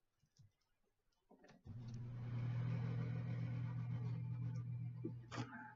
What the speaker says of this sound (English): I'm going to turn a fan on